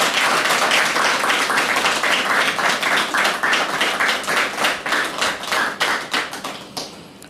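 An audience at a church TV show claps for a couple in a dense, steady round of applause that thins into separate claps and fades at the end.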